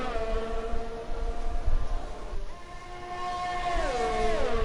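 Formula 1 race cars in the F1 2020 game at the Italy round, a high, whining engine drone that holds steady pitch and then sweeps through gear changes, loud and continuous.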